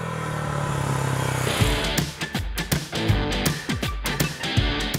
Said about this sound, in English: the exhaust note on the Imperiale is distinctive and is very pleasing to the ears